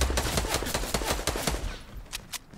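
Rapid bursts of automatic gunfire in the video game Fortnite, loud and dense for about two seconds, then thinning to a few separate shots.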